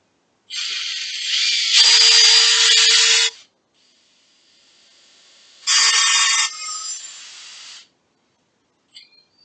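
Two bursts of a high whirring power drill twisting rope, the first about three seconds long and the second about two, separated by a quiet pause.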